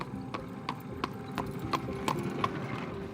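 A horse and buggy clip-clops along a highway in rural Charlotte Hall, Maryland, steady hoof strikes landing about every third of a second over a low traffic hum, fairly close and clear, with no voices.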